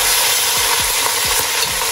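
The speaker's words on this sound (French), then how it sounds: "bien saisir la viande et ensuite je reviens vers vous" Turkey meat searing in a hot pan for a two-spice turkey stew, a steady loud sizzle with a few low knocks and scrapes from stirring, no voices.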